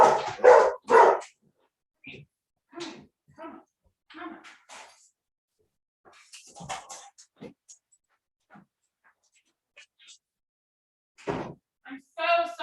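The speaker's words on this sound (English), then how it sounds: "I have this old dog" An old, sick dog gives a few short barks and yips near a microphone at the start. Then come scattered soft sounds and quiet gaps, with another brief burst near the end.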